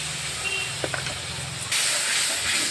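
Spice masala for stuffed pointed gourd sautés in a pan with salt and turmeric. It gives a steady, loud hiss and sizzle that swells partway through, with a few light clinks of stirring.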